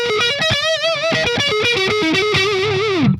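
Heavily distorted electric guitar run through a Friedman IR-X with a Greenback-style cab, voiced for a raw tone: loud, bending lead lines with wide vibrato and heavy sustain, ending on a sliding bend, with no talking.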